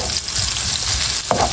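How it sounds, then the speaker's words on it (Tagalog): Susian freshwater snails sauté with garlic and onion in a hot pan, a dense close sizzle with crackles and a brief scraping stir near the end. "bali igigisa ko na po yung susian"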